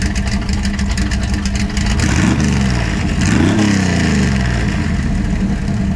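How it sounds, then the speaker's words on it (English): 1963 Chevrolet Impala V8 with electric exhaust cutouts open, rumbling loudly up close and then revving twice in rising, falling swells over a deep, steady idle. "if you really want this engine to roar and rumble going down the road"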